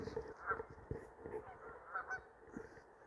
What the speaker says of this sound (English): then tundra swans, and that's what we're looking at right out here now. There's 20 tundra swans.